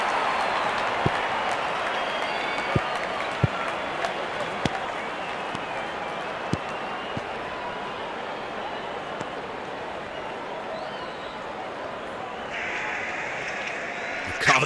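Crowd cheering and applause from Real Cricket 24 form a steady, dense wash of stadium noise, dotted with sharp ticks and a commentator's voice over it.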